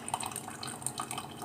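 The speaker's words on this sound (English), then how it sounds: "today it's raining" Rain dripping on a rainy late-summer day, a light patter of drops with scattered individual plinks, steady and fairly faint throughout with no talking.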